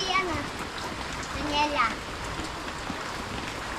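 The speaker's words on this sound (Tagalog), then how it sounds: "ang lakas ng buhos ng ulan na yun" Heavy rain pouring steadily, a dense continuous hiss filling the whole stretch, with a voice calling out briefly over the downpour.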